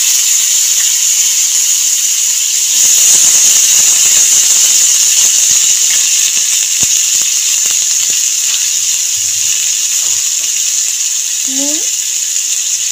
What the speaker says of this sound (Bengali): আগে থেকে যে আমড়া কেটে রেখেছিলাম জলে, সেই আমড়া দিয়ে দেবো।